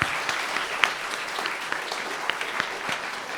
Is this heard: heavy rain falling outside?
no